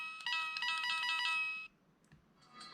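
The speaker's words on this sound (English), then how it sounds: "The button would make a coin noise." A battery-powered Mario toy's button plays a bright electronic coin chime with rapid repeated tones for about a second and a half, then stops; a faint blip and rising tone follow, with no talking.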